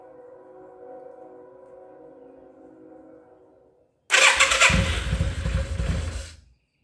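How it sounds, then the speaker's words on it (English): A 1994 Yamaha Virago 535 motorcycle, run for the first time in 10 years, gives a steady low hum before the engine abruptly catches. It then roars loudly and raggedly for about two seconds, close by, and cuts out. "Fire it up and see what happens"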